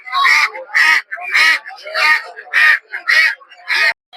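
Native domestic ducks at a poultry market give repeated loud, close calls in a steady rhythm, about eight bursts over a few seconds, with no talk over them.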